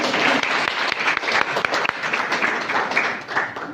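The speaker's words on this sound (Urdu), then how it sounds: "آپ کی تالیوں کی اشد ضرورت ہے." Steady audience clapping fills a hall during prize-giving at a women's Qur'an recitation contest, a continuous, moderately loud patter of many hands with distinct individual claps standing out, easing slightly near the end.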